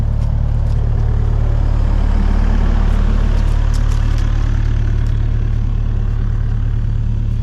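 An excavator clearing tree stumps from a yard idles close by with a loud, steady low rumble that never changes and faint clinks on top, with no voices.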